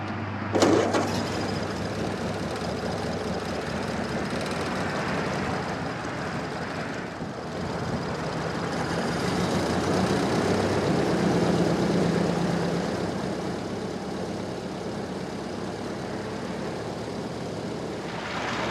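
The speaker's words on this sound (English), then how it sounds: "It is running really nicely right now. Got it sitting here at a pretty low idle" A 1929 Ford Model AA engine, a barn find that sat over 30 years, idles steadily at low speed, a continuous low rumble with a faint mechanical patter, no voices.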